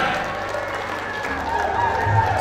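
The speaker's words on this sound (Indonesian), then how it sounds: "Tepuk tangan." Audience applause at a charity auction for disaster victims, continuous crowd clapping mixed with murmuring and light cheering, and voices over the top.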